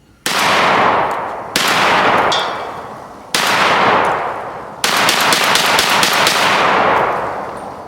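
A Mossberg 940 JM Pro shotgun fires four loud, close blasts in quick succession outdoors, each sharp crack followed by a short decaying echo, with the last shots coming faster.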